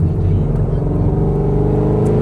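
A car engine runs loud and close with a steady low rumble, holding an even idle for a couple of seconds.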